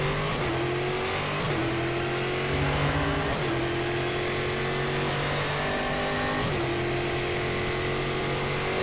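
Brazilian V8 stock car engine in the racing game Stock Car Extreme at Interlagos, loud and continuous, revving up through gears with repeated upshift drops and steady high-pitched whine throughout.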